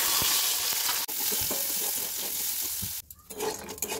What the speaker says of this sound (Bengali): ওই তেলের মধ্যেই আমি গাজরগুলোকেও ভেজে নেব। একে একে সব সবজিগুলোই ভেজে নেব